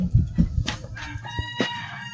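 Several broiler chickens clucking nearby in short, irregular bursts, with a few higher squawks mixed in.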